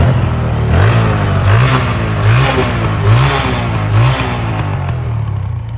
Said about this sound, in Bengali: বাইকটা এখন আমি স্টার্ট দিচ্ছি, আর এই সাউন্ডটা হচ্ছে বাইকের স্টক সাউন্ড